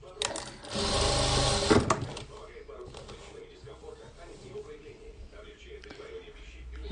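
Jack F4 industrial sewing machine stitching fabric, a brief close, loud burst of rapid whirring lasting about a second, followed by quiet handling sounds and soft low talk.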